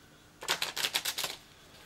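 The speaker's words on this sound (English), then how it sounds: "You do a ripple shuffle." A ripple shuffle of a deck of playing cards gives a quick, close burst of riffling clicks lasting about a second, then stops, with no one talking.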